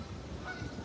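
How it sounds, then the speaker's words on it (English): Geese honk in a park as a dog chases them through the water, brief agitated calls at moderate distance over a soft, steady background. "The dog is in the water chasing the geese. That's why they're yapping."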